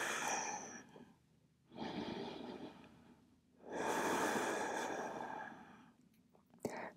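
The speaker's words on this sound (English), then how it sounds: "Just letting yourself be soothed by the sound of your own breath." Slow, deep breaths taken while resting forehead-down in yoga child's pose, two long drawn inhale-exhale swells close to the mic with quiet gaps between, ending in a short sharp catch of breath.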